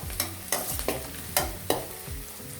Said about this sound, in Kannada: ಇವನ್ನೆಲ್ಲ ಎಣ್ಣೆಯಲ್ಲಿ ಒಂದು ಸ್ವಲ್ಪ ಚೆನ್ನಾಗಿ ಹುರ್ಕೊಳ್ಳಿ